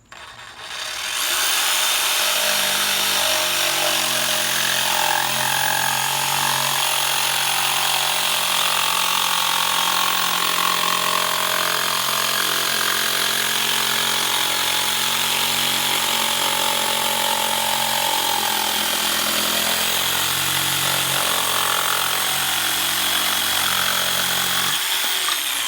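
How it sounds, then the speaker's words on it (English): A jigsaw rough-cuts a curved wooden stair tread in one long, loud, steady buzzing run with a slight change in pitch partway through, then stops just before the end. "You can see that even with the jigsaw, the cut is fairly smooth, but this is not our final cut."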